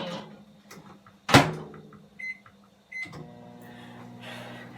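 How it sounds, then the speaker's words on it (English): A kitchen microwave oven handles frozen breakfast burritos: a loud door slam, button beeps, then the steady hum of the oven starting to run. "So just take it and put it in the microwave."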